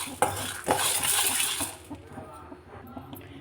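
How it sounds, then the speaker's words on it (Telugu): Peanuts and lentils dry-roasting without oil in a kadai, with a spoon scraping and clinking against the metal pan. Busy rattling at first, then fading to quieter scrapes. "ఆయిల్ లేకుండా ఒక్క స్పూన్ వేరుశెనగ పప్పు వేసుకున్నాను సిమ్లో పెట్టుకొని ఫ్రై చేసుకోవాలి"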